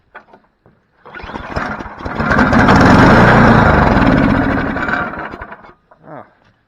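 A snowblower engine is given a direct shot of starter fluid and fires up. A few clicks come first, then a loud sputtering roar builds, holds for several seconds and dies away, followed by a brief rattle.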